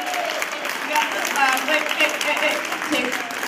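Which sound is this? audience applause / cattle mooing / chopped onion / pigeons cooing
audience applause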